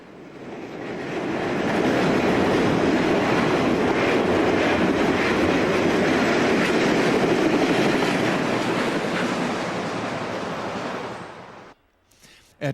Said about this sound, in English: we get our first Conrail eastbound in over 2 hours